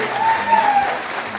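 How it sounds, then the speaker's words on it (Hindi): An audience at a motivational success-story event applauds for a guest speaker, a steady wash of clapping throughout, with a brief tonal voice or whistle rising over it early on. "ताली होनी चाहिए तन्मय सर के लिए।"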